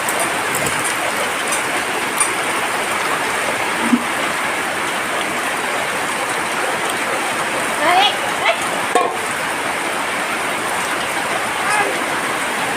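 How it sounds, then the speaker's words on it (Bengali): Heavy rain pours down in a steady, dense hiss that fills the whole stretch, with faint voices and a few brief knocks rising now and then above the downpour. "দেখতেই পাচ্ছেন কি পরিমাণ বৃষ্টি হচ্ছে"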